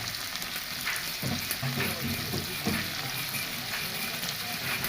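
Tomato, flat beans and local eggplant fry in a pan to soften for a bharta, a continuous sizzle broken by a few louder stirring scrapes and bursts.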